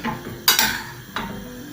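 Eggplant slices frying in oil in a pan, a low steady sizzle broken by two sharp scraping stir strokes, close and fairly loud.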